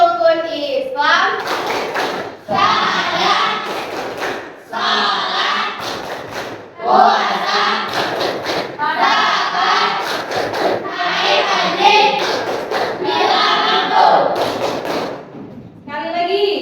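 A class of grade 8 junior high pupils performs the Tepuk Rukun Islam chant: loud group voices shout in rhythmic bursts, punctuated by unison hand claps and thumps.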